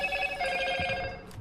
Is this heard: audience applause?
no